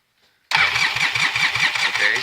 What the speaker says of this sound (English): We'll turn it over here and show you there's no spark.